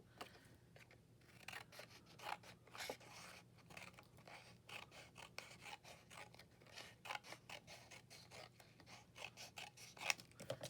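Scissors cut through collage paper in quick, close, quiet snips and rasping strokes, repeating steadily with no talking.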